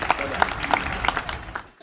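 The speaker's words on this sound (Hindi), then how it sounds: "एक बार जोरदार तालियां आदरणीय संदीप शर्मा जी के लिए हो जाए" Audience applause for the poet Sandeep Sharma at a Hindi kavi sammelan, a brief burst of scattered clapping from a crowd that tails off into quiet within two seconds.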